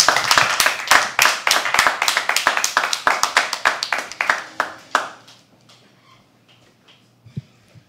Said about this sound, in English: Keep clapping till he comes on stage.